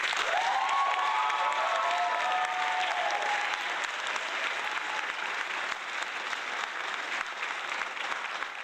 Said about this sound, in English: Oh, I'm hitting the applause.